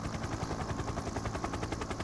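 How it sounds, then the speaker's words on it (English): In a police video game, a helicopter's rotor beats in a fast, even pulsing chop, steady and fairly faint throughout. "We're flying a helicopter."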